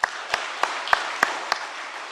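Church congregation members clapping, heard as six sharp, evenly spaced claps about a third of a second apart, ringing in a reverberant hall over a soft background wash.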